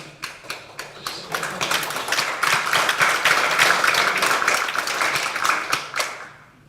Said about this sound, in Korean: 제가 말씀을 다 마치기도 전에 벌써 박수부터 나오시니까